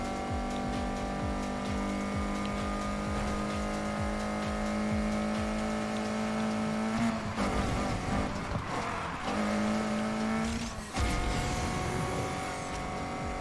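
A 1988 BMW M3 drives in the Need for Speed Heat video game, its engine droning steadily with gear changes, tire noise and brief bursts of roaring acceleration, loud and continuous.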